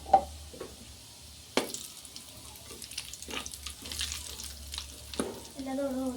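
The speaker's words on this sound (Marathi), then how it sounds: "तर कोरड्या लाल मिरची आपण याच्यामध्ये टाकून दिल्या. थोडा मीडियम गॅस ठेवायचा." Dried red chillies fry in a pan over medium heat, giving a soft, intermittent sizzle broken by sharp clinks and scrapes of a utensil against the pan, heard close and without talk.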